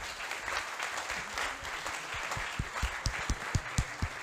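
Audience applause at an evening charity pitch event welcoming newcomers, a steady wash of many hands clapping with sharper, louder claps emerging toward the end, moderately distant.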